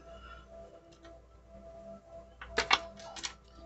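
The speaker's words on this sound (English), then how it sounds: "I know not everybody can handle that sound. I apologize. Just in the process of shuffling." Playing cards being shuffled, a quiet room tone followed by a short burst of riffling and crisp flicking of cards near the end, close and brief.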